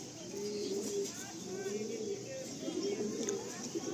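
Domestic pigeons of a fancy show breed coo softly in a loft, low repeated throaty calls rising and falling, faint and close, with people talking nearby.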